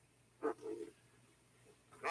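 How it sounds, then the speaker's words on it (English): Dogs barking as they are let out to run: two or three short, faint barks close together early on, then one more after a quiet gap, with no talking. "Letting his dogs out to run"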